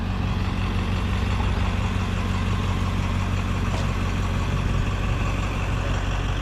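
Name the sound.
tour bus engine idling as it leaves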